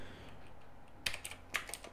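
A few soft, quick keystrokes on a computer keyboard click in a brief burst in a quiet room, with no speech.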